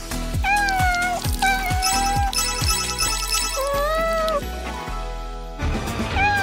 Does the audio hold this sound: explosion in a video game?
no